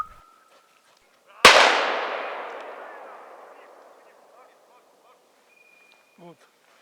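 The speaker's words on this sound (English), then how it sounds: "Predictably, the first shot comes from another." A single shotgun shot is fired at a woodcock during a walked-up shoot outdoors. One sudden, loud blast rolls away in a long, fading echo, followed by quiet with faint sounds in the background.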